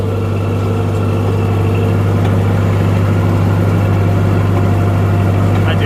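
Steady low engine rumble of a Minneapolis Moline UB tractor with dual exhaust idles close by, a constant throaty drone with a faint rattle and no voices.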